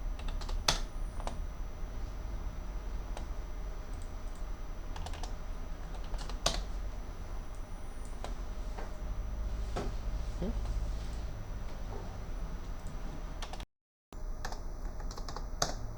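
Clicking and typing on a computer keyboard and mouse while working in car wiggle animation software, with rapid taps and scattered clicks running steadily throughout, cut by a brief silent gap near the end.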